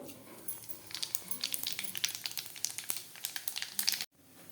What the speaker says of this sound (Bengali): এই যে তেল দিয়ে দিলাম আর একটু, এই যে তেলের মধ্যে এই যে কালো জিরাটা দিব।